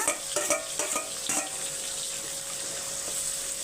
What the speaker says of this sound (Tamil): வெங்காயம் வந்து வதங்கட்டும்